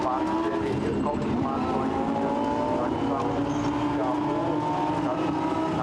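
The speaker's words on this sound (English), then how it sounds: "a very patriotic blue and white car goes through." Lamborghini Super Trofeo race cars at the Nürburgring in 2019, a loud, continuous engine roar held steady throughout, with race commentary talking over it.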